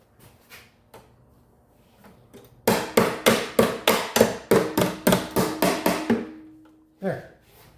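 A hammer bangs on part of a Craftsman mower: a few light taps, then a fast run of about fifteen loud, sharp metallic blows close up, a short pause and one last strike.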